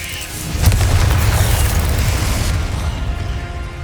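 A Confringo blasting spell from Hogwarts Legacy explodes in a loud, deep boom that swells quickly and then leaves a broad rumbling roar fading out over a few seconds.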